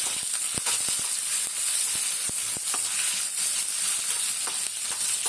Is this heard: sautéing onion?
yes